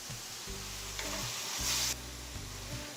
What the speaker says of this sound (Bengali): এখন এখানে চিংড়ি মাছটাকে আমি 2-3 মিনিট ফ্রাই করে নিচ্ছি।